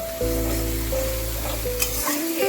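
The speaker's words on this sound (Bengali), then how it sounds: "এবার আমি এই মিশ্রণটি কড়াইয়ের মধ্যে দিয়ে দেবো। তারপর ভালো করে কষাবো।" Spice paste for a vegetarian doi potol curry sizzles steadily as it is sautéed in a kadai, a continuous close frying hiss with light stirring scrapes and no talking.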